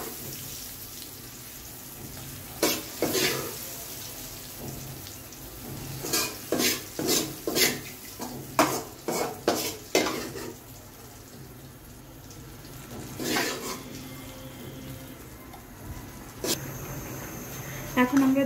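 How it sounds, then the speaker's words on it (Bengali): Fried spice paste stirred into a curry in a pan, with a run of sharp, rhythmic spoon scrapes and knocks over a low sizzle, close by, with quiet speech between the bursts. "এবার আমরা তরকারির মধ্যে দিয়ে দিচ্ছি মশলাটা।"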